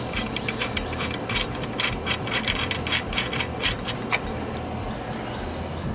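Bolts being tightened with a ratchet give rapid, uneven clicking bursts over a low background hum, close by, fading to quieter scraping toward the end.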